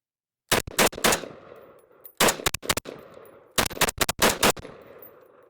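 Sig 553P rifle fired at a range in three quick strings of sharp, very loud close shots, each string a few rounds long, with short quiet pauses between them.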